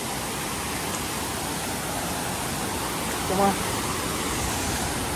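Water pours steadily over a check dam at Poolampara, forming a waterfall that gives a constant, broadband rushing roar from start to finish, with no pauses and no clear voices.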